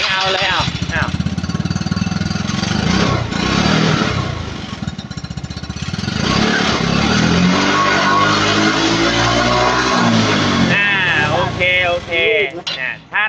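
Yamaha Fino scooter with an aftermarket pipe and a black-smoke fault, revved hard and held at high rpm, a loud, close, continuous buzzing roar with rising and falling pitch, voices talking over it.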